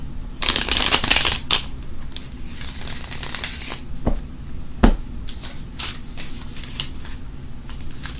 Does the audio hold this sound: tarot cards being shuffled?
yes